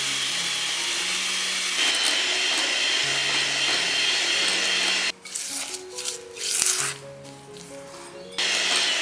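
An electric mixer beats softened butter with sugar at medium-high speed, giving a steady, loud, close whirring hum that drops away for a few seconds in the middle before starting again.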